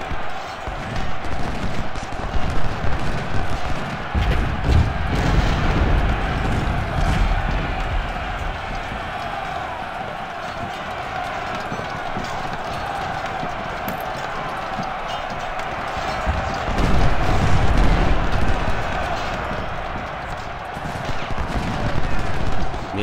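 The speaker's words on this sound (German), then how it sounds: "Und wo kommen diese Schüsse?" Rifle volleys and cannon fire rumble through a Civil War battle in Ultimate General: Civil War, a sustained, crackling din of massed gunfire with heavier surges around five and seventeen seconds.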